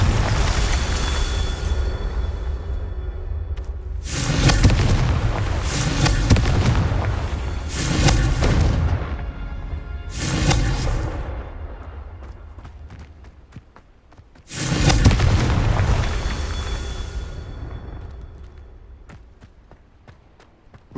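Confringo fire spell blasts in the Hogwarts Legacy video game, several loud booming explosions in separate bursts, each rumbling and fading out, with a gap before the last big blast.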